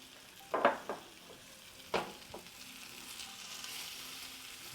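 Pork chops sizzle quietly in a hot pan, a soft steady frying hiss broken by a few brief clinks and scrapes of a utensil.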